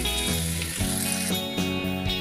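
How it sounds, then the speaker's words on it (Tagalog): Sole fish fillet sizzles steadily in a pan of butter and oil, a loud continuous frying crackle with small bursts of spitting throughout and no talk. "Lagyan ko lang ng konting mantika itong ating kawali. Kasunod dito yung ating butter. Okay, prito na natin."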